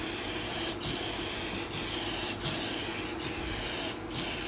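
Rust-Oleum hammered spray paint hisses steadily from an aerosol can in a continuous broadband wash, with brief gaps where the trigger is released, close and moderately loud with no talking.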